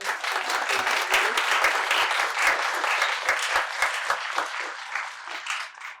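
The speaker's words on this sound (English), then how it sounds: "please join me in a big round of applause" An audience at a panel discussion claps warmly and steadily for about six seconds, a dense round of applause filling the room without talk before it tapers off.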